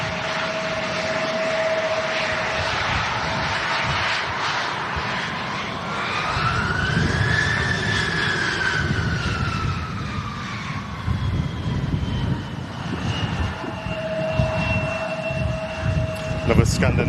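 Scandinavian Airbus A320neo airliner taxiing at an airport on a sunny day, its engine whine rising and falling as it passes at moderate distance over steady background noise, with a faint siren-like tone.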